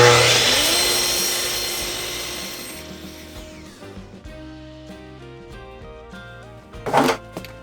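A table saw squares off the end of a board with a loud cutting whine that fades as the blade spins down over several seconds, followed by a short thump or rustle near the end, no talking.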